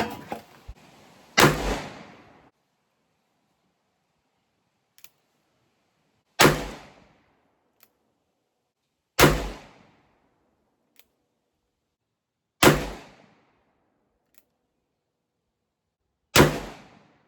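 A Ruger Blackhawk revolver in .45 Colt, loaded with Accurate No. 7 powder, fires five loud, sharp shots spaced several seconds apart. Each crack has a short decaying tail, and near-silence lies between the shots.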